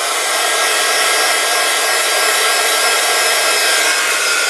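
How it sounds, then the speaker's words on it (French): A heat gun melts embossing powder on a handmade card, giving a continuous, loud, even hiss of blowing air that holds steady throughout, with no talk. "je vais chauffer ma poudre pour la faire fondre."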